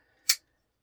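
A Vosteed Hedgehog folding knife blade is reverse-flicked open, giving a single sharp, crisp snap near the mic, over in a fraction of a second with silence around it.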